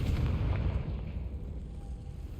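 A Confringo fire spell blasts in Hogwarts Legacy, a loud, low rumbling explosion that hits at once and rolls on as a sustained boom with no voices over it.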